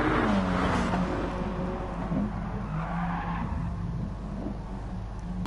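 A race car spins out on the Nürburgring Nordschleife in Gran Turismo's Gr.B and GT series, its tyres letting out long wavering squeals over a steady engine drone.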